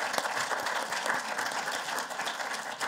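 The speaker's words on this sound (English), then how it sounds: "Give them a big round of applause" Applause from an academic event audience welcoming a panel of alumni speakers, a continuous soft patter of many hands clapping, fairly distant and even in level.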